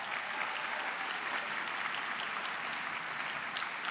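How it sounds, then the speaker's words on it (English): Steady, dense audience applause fills a hall at a state arts agencies convention after news of a restored arts budget, sustained and even throughout with no voices over it. "that deserves a round of applause"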